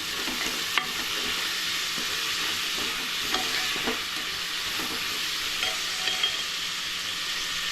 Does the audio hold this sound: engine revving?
no